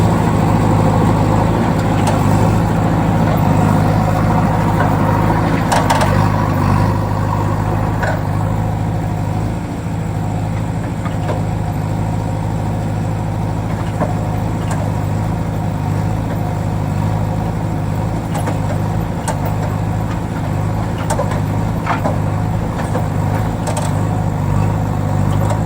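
A toy JCB machine's motor runs continuously with a steady droning hum and faint clicks, loud and close with no break.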